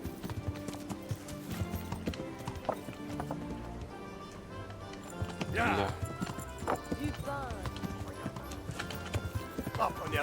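Hooves clip-clop steadily beneath a ridden horse in the medieval game Kingdom Come: Deliverance, with an occasional whinny, game music and background noise around them, and someone speaking French over the hoofbeats.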